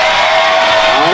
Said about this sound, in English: Let's give Ms. Casey and Ms. Hubbard's class a round of applause